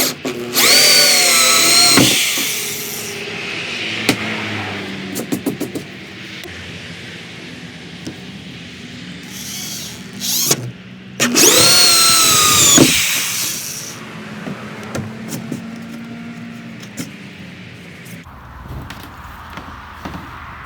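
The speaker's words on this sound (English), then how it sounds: "you guys can see we just drilled right through them" Power drill boring holes through a kayak hull to mount rod holders, two loud high-pitched whining bursts of drilling separated by quieter handling noises, close up with no talking.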